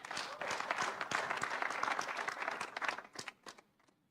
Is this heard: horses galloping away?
no